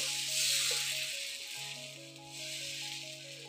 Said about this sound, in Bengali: এখানে তাওয়া বসিয়ে দিয়েছে, তাওয়া গরম হয়ে গিয়েছে, অল্প হালকা তেল দিয়ে দিয়েছে